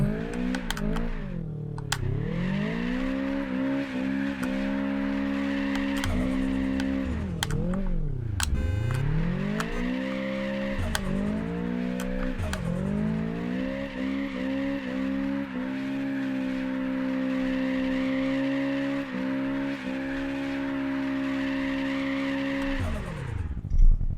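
A car drifting in Apex Point, engine revving and falling with long wavering tire squeals as the car slides through corners, continuous and close with no talking.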